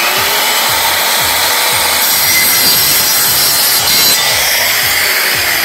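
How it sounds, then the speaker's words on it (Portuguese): Wooden trim strips of a wardrobe are sawn through, a loud, steady, rasping back-and-forth cutting rhythm up close that continues without pause, with no voices. "Cortei um, agora eu vou cortar o outro, ó."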